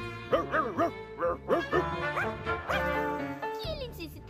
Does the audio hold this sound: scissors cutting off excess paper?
no